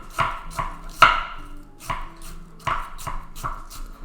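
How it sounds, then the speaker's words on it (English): A chef's knife chops an onion on a cutting board in a series of crisp, close, irregular thuds and slices, about eight or nine cuts with brief pauses between them. "you want to make sure your knife is always like in the same place, and you just push the onion kind of like towards the knife"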